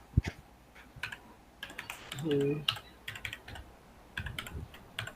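A web address is typed on a computer keyboard in short bursts of close key clicks, separated by pauses and a brief tonal hum, with a faint voice in the background.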